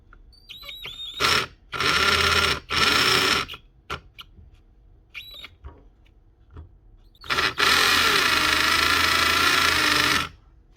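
An old Bosch GBH 24 VRE 24-volt cordless SDS drill, opened up for repair, whirs loudly in several short bursts and then one long run of about three seconds, with clicks and handling noise between the runs.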